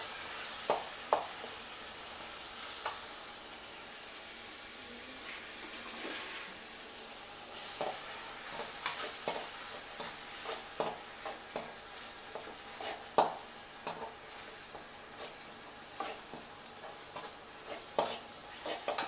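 Ginger, garlic, fennel and masala sauté in a pan for crab gravy, with a steady close sizzle and frequent scraping, clinking stirs against the pan that grow busier toward the end.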